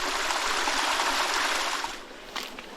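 Creek water rushes and splashes in a steady, close broadband wash, easing slightly toward the end.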